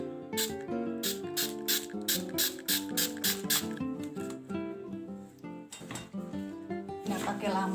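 Cleaner is sprayed from a trigger spray bottle onto a water faucet marked with soap residue and water stains: a quick run of sharp, rhythmic spray bursts, then a few more after a pause, over a tonal background.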